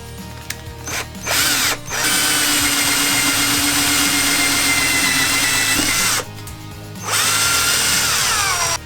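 A power sander shaping the blade of an MDF prop sword, a Warhammer 40K witch knife, whirs close by in two long steady runs, with a brief gap between them and a few short bursts before the first.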